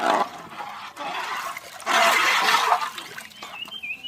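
Water is poured into a cooking pot for meat khichuri, splashing and gurgling in bursts with short pauses between pours, close by and fairly loud, without speech.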